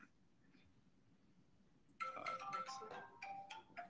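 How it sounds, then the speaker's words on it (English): A mobile phone rings suddenly partway through a remote technical working-group meeting, a bright melodic ringtone sounding loud and close after a quiet stretch and repeating its tune until the clip ends. "Why is my phone ringing?"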